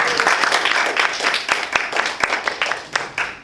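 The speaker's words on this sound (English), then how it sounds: "Round of applause for all of them." Applause from a small audience at an evening Toastmasters club meeting, a dense patter of many hands clapping steadily for a few seconds at close range, with occasional sharper individual claps standing out.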